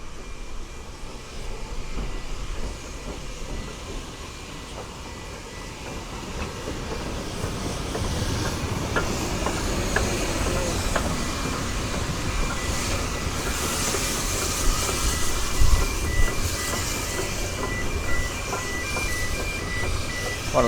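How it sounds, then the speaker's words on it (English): The narrow gauge Garratt steam locomotive Mountain Spirit rumbles steadily across a road bridge at Porthmadog, with a continuous heavy rolling roar and faint clickety-clack of wagons, heard from nearby. "A huge narrow gauge Garrett crossing a main road over a bridge."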